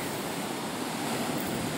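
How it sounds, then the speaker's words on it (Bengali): Sea waves break on the beach at Digha during high tide, a dense continuous roar of surf heard close and alone, with no talk. "এমন আছড়ে পড়ছে ঢেউগুলো, জাস্ট অ্যামেজিং ব্যাপার একটা"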